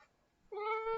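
A pet cat gives a single short, clear meow close by, rising out of near silence with no talking.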